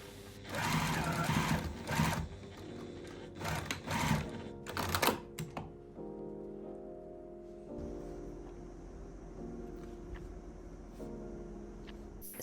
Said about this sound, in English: sew a row of stitches 1 cm down from the top of the waistband